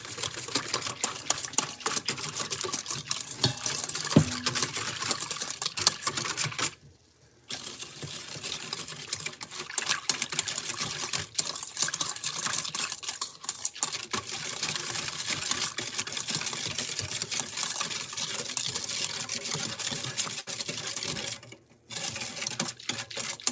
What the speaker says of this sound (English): then we'll whisk it around